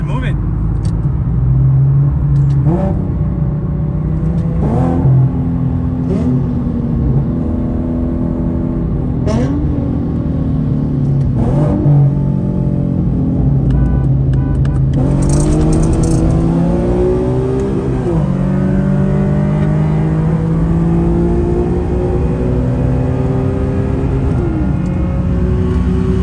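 E85-tuned Nissan 350Z cars and a tuned Infiniti Q50 accelerating hard in a street race, engines roaring loud and close with rising revs and gear changes, under steady excited talk from people in the car.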